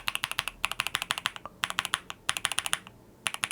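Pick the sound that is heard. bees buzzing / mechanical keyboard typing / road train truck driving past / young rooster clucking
mechanical keyboard typing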